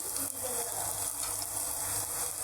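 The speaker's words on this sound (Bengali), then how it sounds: "এখন রসুন কুচি দিব, আমি বাগারে দিয়ে দিব।" Chopped garlic frying in oil as a tempering for kamli greens, an even, close, bright sizzle hissing steadily throughout without talk.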